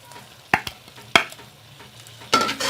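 Roasted chicken for biryani is scraped and moved in a pot, with a few sharp metal spoon clanks over a faint background sizzle, close by and without speech.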